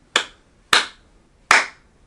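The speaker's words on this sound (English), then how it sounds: "you can clap for yourself" Three separate sharp hand claps, evenly spaced and close, ringing out alone in a quiet room on an improv show after a guest is welcomed.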